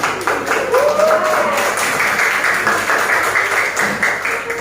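A classroom group gives applause for the first presenting group, a burst of scattered clapping across a few seconds with some voices mixed in.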